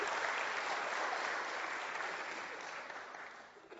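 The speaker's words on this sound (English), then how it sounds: "It'd be helpful if you clap." Audience applause fills a quiet talk event, a dense steady patter of many hands clapping that gradually thins and fades toward the end.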